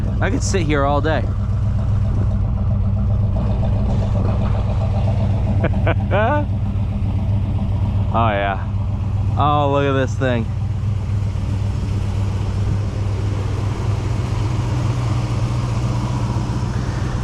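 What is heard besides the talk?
1978 GMC Sierra Classic engine idling through dual exhausts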